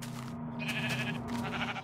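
Sheep bleating in the Minecraft video game, a sustained nasal bleat lasting most of the moment, fairly loud and close, with no talk over it.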